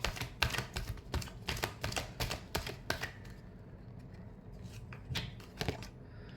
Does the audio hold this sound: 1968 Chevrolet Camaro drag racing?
no